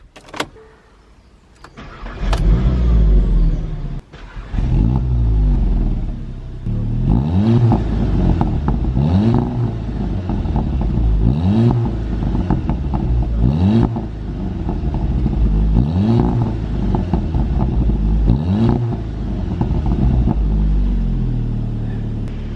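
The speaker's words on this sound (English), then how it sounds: "we'll just turn on the car and I'll give you guys a few revving clips" A Seat Leon Cupra 290 engine starts, then revs repeatedly in rising and falling bursts, about seven throttle blips with idle between them, close and loud.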